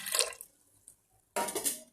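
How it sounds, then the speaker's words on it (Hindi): Water poured into a clay cooking pot set on a gas stove, with two bright splashing bursts separated by a near-silent gap, close and fairly loud. "तो प्रथमे हांडी गैस पे बसैबा, तापर सेथरे किछि पानी दबा।"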